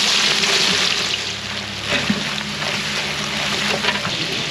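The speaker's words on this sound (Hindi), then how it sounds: "लहसुन डालेंगे, प्याज डालेंगे" Garlic and onions fry in hot cooking oil, a steady crackling sizzle with occasional pops and some background rumble, no speech.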